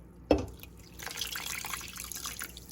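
Water poured from a cup into a cooking pot on the stove, with a sharp splash at the start followed by a steady, moderately loud trickle and spatter close by.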